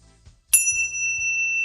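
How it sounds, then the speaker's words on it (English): A single bright bell strike rings out at a pageant and hangs as a sustained, slowly fading tone, cutting sharply through a low background hum. "There's the bell."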